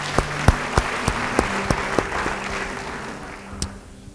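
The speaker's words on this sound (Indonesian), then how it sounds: "Beri tepuk tangan buat Tuhan dong." Church congregation applause during a sermon service, starting as distinct separate claps with a sustained tone beneath, then thinning into scattered sparse claps before fading.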